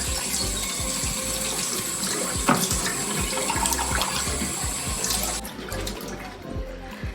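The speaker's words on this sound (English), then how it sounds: "Just gonna drain them. Wash them off." Canned Goya black beans are drained and rinsed under a running kitchen tap, with steady splashing water and liquid pouring throughout, close by, easing slightly toward the end.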